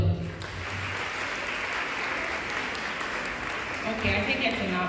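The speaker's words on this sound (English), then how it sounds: "Please clap for them" Audience clapping for the mentors at a question-and-answer session on an event stage, a steady dense wash of applause running the whole time, with voices murmuring beneath it.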